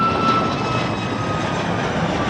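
A jet airliner in Swoop livery lands on runway 24 left at Toronto Pearson Airport, its engine roar a steady, loud broadband rush with a thin high whine across the whole stretch.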